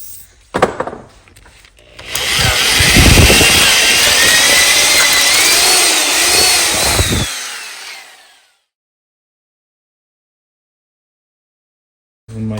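A power drill runs with a bigger bit through a broken bolt on a mower deck spindle, a loud continuous grinding whine lasting about six seconds before cutting out into silence.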